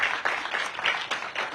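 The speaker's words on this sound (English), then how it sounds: "Please give them all a round of applause" Short burst of applause from the audience at a Washington DC building inauguration for a public charter school in Ward 4, a steady patter of clapping with uneven swells over a second and a half.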